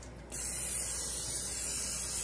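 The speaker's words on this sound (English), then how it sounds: "Let me give you some oil. I'm going to just spray it, okay? Let's just spray it." Cooking oil sprayed from a can into a skillet, a sudden steady hiss that starts after a short pause and holds evenly, close and fairly quiet.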